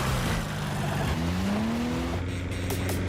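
A car engine revs under a steady rising drone, with the pitch climbing then dropping back, loud and close, mixed with dense background noise and no clear speech.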